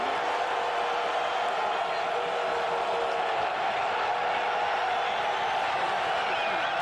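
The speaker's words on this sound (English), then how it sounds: "Crowd appreciating the defensive performance so far" A football stadium crowd in a UFL game between Sacramento and Omaha roars steadily for the defense, a dense distant wash of cheering and whoops from start to finish.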